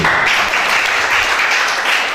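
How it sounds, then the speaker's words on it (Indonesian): A church congregation claps for God during a Sunday worship service, a dense, steady wash of many hands filling the whole stretch without pause. "Tepuk tangan bagi Tuhan."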